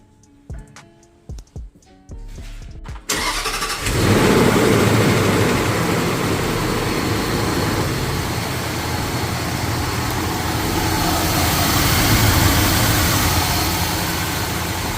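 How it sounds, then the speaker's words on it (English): A 2007 Range Rover engine cranks over after a few clicks and catches, then settles into a steady, loud, low idle that runs close up and alone to the end. "we started it up, let it run for a little bit"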